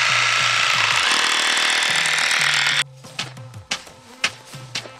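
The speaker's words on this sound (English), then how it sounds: "All right, Ada, drill it." A loud, continuous drill roars for about three seconds into soft, rain-dampened ground, then cuts off, followed by a few scattered knocks and thuds.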